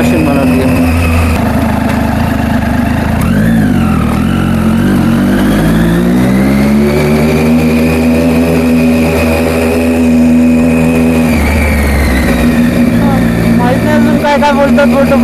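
A motorcycle engine hums and revs while riding, rising and falling in pitch through gear changes, close and loud with wind rush throughout.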